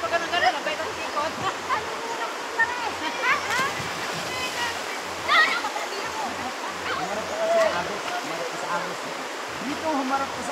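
Continuous rushing river current on a trip in Romblon, a broad steady wash of flowing water with no pauses, and voices mixed in beneath it.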